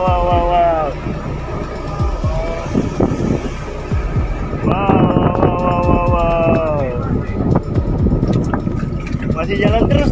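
A whirlwind's gusts buffet a boat near Batam, with steady wind rumble and microphone buffeting, while several people talk excitedly over it throughout.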